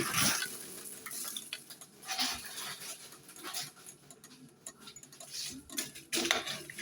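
Food tossed and stirred in a bowl to coat it in a dorm kitchen, a steady run of soft scraping and clinking of utensil against dish, close up, with no talking.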